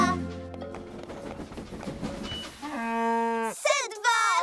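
Animated cows moo in a children's cartoon as a herd passes through a gate. After busy music and chatter, long drawn-out moos sound in close succession, ending in higher, wavering calls.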